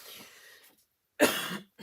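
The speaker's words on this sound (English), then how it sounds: "apologize for the coughing" Two rough coughs sound close by, a softer one first, then a louder, harsher one after a brief silence.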